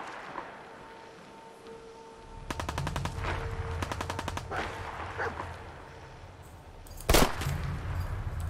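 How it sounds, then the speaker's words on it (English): Gunfire in the video game Fallout 4 arrives as rapid automatic bursts, two rattling volleys a moment apart, followed later by a single loud, sharp shot, all over a low ambient hum with no talking. "The hell is this guy shooting at?"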